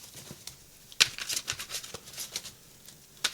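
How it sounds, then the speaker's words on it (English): Tarot cards being shuffled by hand, soft papery riffles and light slaps coming in quick irregular bursts, close and fairly quiet with no talking. "I'm going to shuffle the cards"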